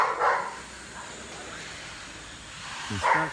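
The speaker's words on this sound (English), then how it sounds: "Got some doggies here" Guard dogs barking on a street in Ermita, Manila, two short distant barks at the start and end over steady traffic and construction noise.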